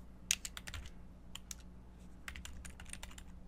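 Irregular bursts of computer keyboard keystrokes, close and fairly quiet, clustered in quick runs with short pauses between them.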